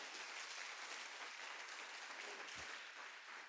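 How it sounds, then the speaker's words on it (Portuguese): A church congregation gives sustained, even applause, heard at a distance and fairly faint, with a single low thump partway through. "dá mais uma salva de palmas para Jesus"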